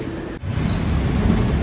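A heavy, continuous roar of thunder rolls under steady rain, loud and close, with a brief dip before the rumble swells again.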